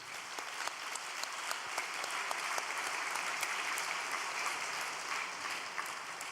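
A congregation at an all-night church service applauds, a fairly faint but continuous wash of many hands clapping with a few sharper claps standing out, steady throughout.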